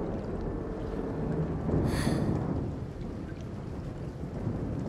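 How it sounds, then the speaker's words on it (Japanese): Steady rain and a low thunder rumble in the video game Life is Strange True Colors, a continuous wash of noise that swells briefly near the middle with a bright crackle, heard alone with no talk. "雨だ。"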